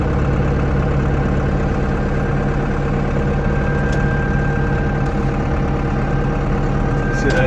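A loader tractor's engine drones loud and steady at a low idle as it sets a heavy molasses load down onto a trailer. The rumble stays even throughout, with faint metallic clicks over it.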